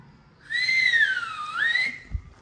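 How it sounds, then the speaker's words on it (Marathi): A person whistles a single sustained tone for about a second and a half, sliding down and back up in pitch, clear and close against a quiet background. "शिट्ट्या वाजवतोय"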